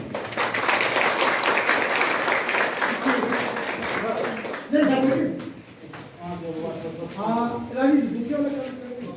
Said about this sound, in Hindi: डीएम साहब श्री अमित सर का आप लोग तालियों से स्वागत कीजिए